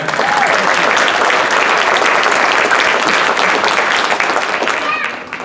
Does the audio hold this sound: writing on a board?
no